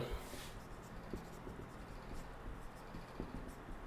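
A pen scratches softly on paper as a math answer is written out by hand, faint irregular strokes over a quiet room background.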